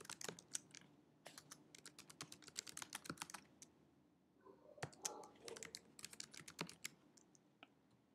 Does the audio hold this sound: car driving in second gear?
no